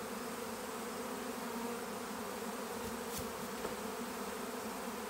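Honeybee swarm buzzing steadily and densely during a swarm capture, a continuous close drone of many insects with no pauses and no voices.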